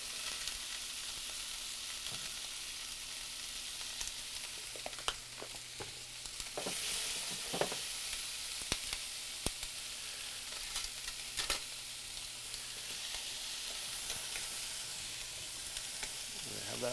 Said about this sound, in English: The shrimp are already cooking through.